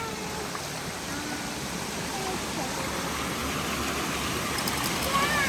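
Daytime waterfall flowing with a steady broadband rush, moderate and constant throughout, heard at a modest distance with faint background noise.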